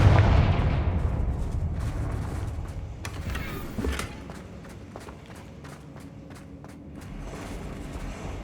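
A Confringo blasting spell in the Hogwarts Legacy video game goes off as a heavy, booming burst that rumbles and fades. Sharp cracks and quick thumping steps follow over faint game ambience.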